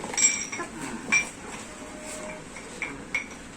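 Cups, plates and bowls clinking in a kitchen as they are lifted out one by one, a few sharp light chinks spaced irregularly over faint background hiss.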